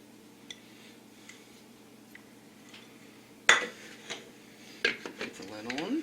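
Pieces of cut-up butter drop into a food processor bowl, making a sudden close clatter of hard knocks and clinks after a quiet start, with a brief voice near the end.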